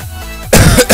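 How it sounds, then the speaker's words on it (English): A single loud, close cough bursts out after a half-second of quiet, followed by a shorter second hack. "Sorry about that cough there."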